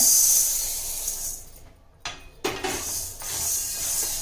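Green moong dal tipped into a hot kadai to roast gives a steady hiss, then a brief hush and a few thumps and scrapes as the sizzling resumes.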